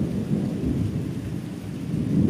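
Deep thunder rumbles continuously through a storm over the Sundarbans, loud and close, with steady heavy rain beneath and no voices.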